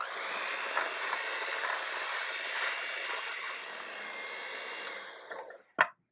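An electric mixer beats flour into creamed cookie dough for pecan logs, giving a steady, fairly quiet motor whir that winds down near the end before a single sharp knock.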